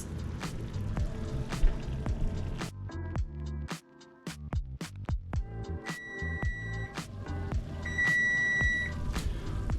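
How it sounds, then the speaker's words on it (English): Two kitchen timers going off together during a chicken and vegetable meal prep, sounding repeated electronic beeps that overlap and ring steadily near the end, over clattering kitchen noise and running water. "Of course, both timers go off at the same time."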